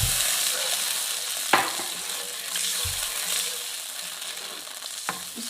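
Cornflour slurry stirred into a simmering vegetable manchurian gravy makes a soft continuous bubbling hiss, with a few sharp scraping strokes of the spoon against the pan, close and fairly quiet.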